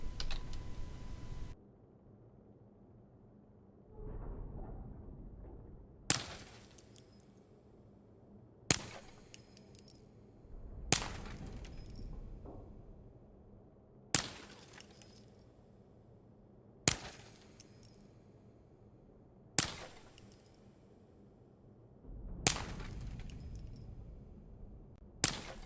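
Ruger MK3 .22 pistol firing in Ghosts of Tabor, eight sharp single shots spaced a few seconds apart, each a crisp crack with a short tail, over quiet background.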